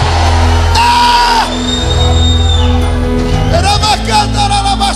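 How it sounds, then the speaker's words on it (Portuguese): A church congregation shouts and yells praise to God together, a loud sustained mass of voices with whoops and cries rising over a continuous crowd roar during an end-times sermon. "não dá um grito não, dá um berro de glória a Deus nesse lugar"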